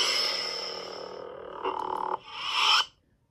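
A Saberforms Neopixel lightsaber plays "The Butcher" sound font, a buzzing electronic hum that swells, shifts in pitch and cuts off abruptly near the end, fairly faint and alone.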